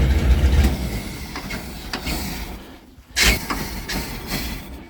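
A MerCruiser big-block 454 7.4L boat engine with a Bravo One outdrive runs loud and close while being winterized with oil. It chugs steadily with a rough, rumbling texture, dips briefly and then surges back.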